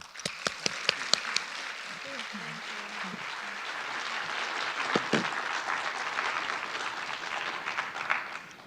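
A conference audience applauds the day's speakers at a panel session, with sustained clapping that starts with sharp individual claps and swells into a dense, even roar. A voice speaks briefly near the start.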